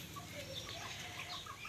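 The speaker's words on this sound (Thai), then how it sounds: "นี่พี่น้องกำลังสิจับเป็ด" Ducks being caught outdoors for a meal, with agitated clucking calls and flapping wings, faint and distant against steady background noise.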